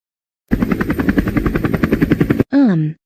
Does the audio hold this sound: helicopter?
yes